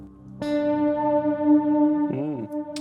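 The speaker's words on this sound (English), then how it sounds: "Let's get the spaced out reverb and put it on the guitar" A sustained electric guitar chord rings out with a long, spacious reverb tail, followed by a bending, wobbling note near the end.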